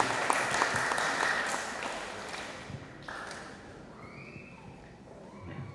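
A congregation claps in a reverberant church during Sunday Mass, the applause loud at first and then thinning out and fading over several seconds.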